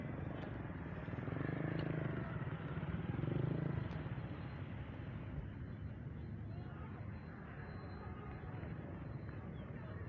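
Motorcycle engine idling and revving gently during a riding lesson as the learner works the accelerator and clutch together, a low steady drone with a swell of revs early on, while an instructor speaks over it.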